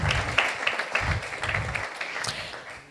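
An audience at a FIDAPA women's event on women of the Bible breaks into warm applause, a dense patter of many hands clapping in a hall that fades slightly toward the end, with no talk over it.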